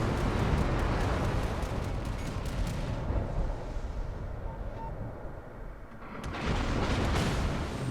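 Ship guns fire in World of Warships, an Italian Montecuccoli cruiser in battle, as a dense, continuous roar of booming blasts that thins briefly before swelling back.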